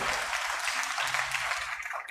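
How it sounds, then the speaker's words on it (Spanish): A church congregation breaks into loud, dense applause, a continuous wash of clapping from many hands filling the room. "Dale un fuerte aplauso."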